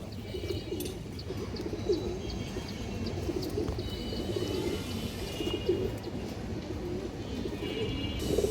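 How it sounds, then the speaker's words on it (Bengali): Pigeons coo softly and repeatedly in a loft, with low rolling calls over a steady background hum and occasional faint chirps. "খুবই সুন্দর একটা কবুতর মাশাআল্লাহ, অনেক ছটফটা কবুতরটা"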